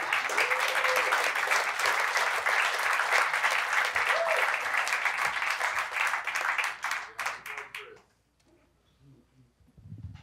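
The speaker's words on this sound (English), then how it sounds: "Put your hands together for Chris Hopkins." A comedy benefit audience breaks into loud, dense applause that holds steady for several seconds and then thins out and stops, leaving near quiet with a faint voice.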